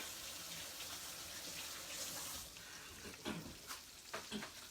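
Pork chops sizzle in a cast iron pan, a steady broadband frying hiss that runs close and continuous, with a few short clattering knocks near the end.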